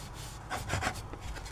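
A microfiber cloth wipes down a 3D print to clear off alcohol, giving a few soft, close rubbing strokes that swell briefly in the middle.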